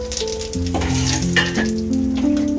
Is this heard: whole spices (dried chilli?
yes